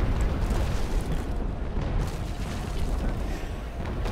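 Ship cannon fire in the naval video game Naval Action during a port battle, a continuous rumbling barrage of heavy booms that stays loud and dense for the whole stretch.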